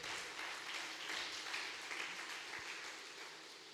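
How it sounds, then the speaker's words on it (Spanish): Congregation clapping in church during a Spanish-language sermon by a woman pastor, a steady dense wash of hands held at an even level for several seconds. "Dale fuerte aplauso al Señor si lo cree."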